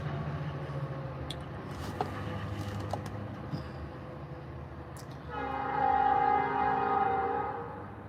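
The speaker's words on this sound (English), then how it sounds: "That's a train going by." A train rumbles past steadily in the distance, and a long horn note sounds partway through, loud and sustained over the rolling noise.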